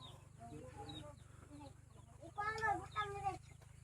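Chickens cluck softly at a distance, a scattering of short, uneven calls that swells into a louder run of clucks toward the end over a low background hum.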